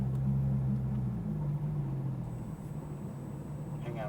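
A Porsche GT3 RS at Exotics Racing rolling in to park, its engine a low steady rumble close by that slowly eases, with voices faintly present.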